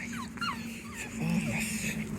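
Puppies whimper and yip softly in short, rising squeaks over a steady low hum, with a louder whine toward the end.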